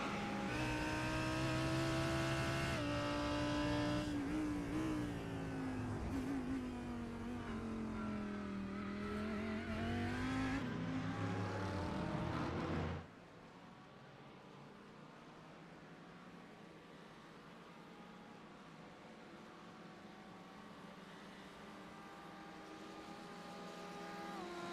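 Racing-game race car heading down pit road during an endurance event at VIR, a loud engine whine rising and falling over the first half before cutting abruptly to a quieter low hum.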